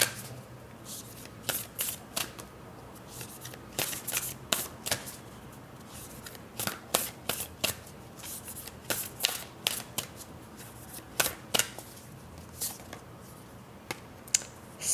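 A Black Moon Astrology card deck is shuffled close up, with repeated quick crisp riffles and flicks in irregular bursts over a quiet background, no talking.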